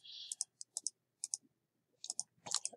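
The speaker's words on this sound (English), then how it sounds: "but go click, click, click" Computer mouse clicks while tracing a free lasso selection in GIMP, a handful of quiet, crisp clicks in small groups separated by short pauses, close and alone in a still room.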